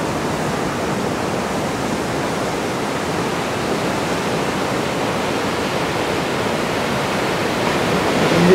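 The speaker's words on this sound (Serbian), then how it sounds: "Indijski okean." Indian Ocean surf at Bali rolls in as a steady, dense wash of broadband noise, loud and unbroken, swelling slightly toward the end with no voices.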